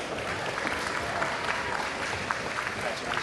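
A graduation audience at a university convocation applauds continuously, a dense, steady patter of many hands clapping at moderate distance, with faint cheering mixed in.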